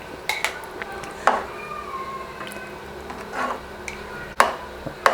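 Badam halwa being stirred in ghee in a pan: several sharp utensil clinks and scrapes against metal at irregular moments, close and fairly clear over a soft background, with no talking.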